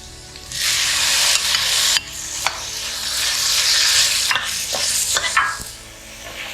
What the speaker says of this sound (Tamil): நல்ல மையாத வரைக்கும் நல்ல தக்காளி வச்சு நல்லா வதக்குங்க